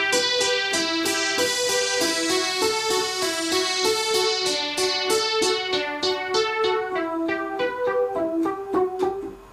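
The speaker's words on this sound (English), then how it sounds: "we've used a trance sound with a simple kind of riff that goes" Trance-style synth playing a simple repeating riff of bright, rapid pulsing notes with rich harmonics, steady and prominent on its own, from a track by a prog rock band.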